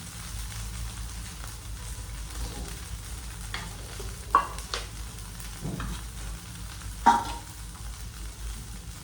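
Soya tikki shallow-frying in a little butter makes a soft, steady sizzle, punctuated by a couple of brief, sharper spatula scrapes or taps, fairly close and without speech.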